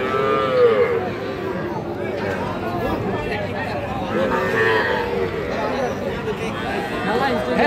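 Cattle, small crossbred bulls and heifer calves, mooing repeatedly at a busy livestock market in Raniganj, calls rising over the continuous chatter of a crowd and nearby talk.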